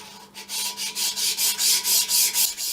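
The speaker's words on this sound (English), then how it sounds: "You don't have to overdo the stoning, just enough to get rid of those burrs, really." Rhythmic rubbing of a sharpening stone worked over a Myford ML7 lathe surface to take off burrs, about ten even back-and-forth strokes close by, steady and alone.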